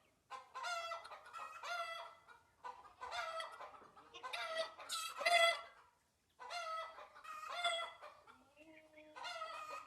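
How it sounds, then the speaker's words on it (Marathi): Chickens and roosters in a goat-farm shed cluck and crow close by in repeated bursts of calls, with short pauses between them and no talk. "आपल्या शेडमध्ये काही कोंबडे आहेत"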